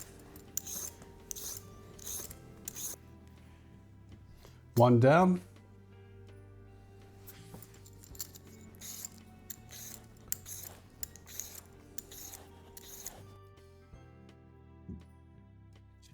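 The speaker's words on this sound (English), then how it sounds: "when you peel your potatoes, all the peelings will end up here" Potatoes being peeled over a paper towel in a home kitchen, a string of short, quiet scraping strokes of the peeler, with someone talking and a brief louder vocal burst midway.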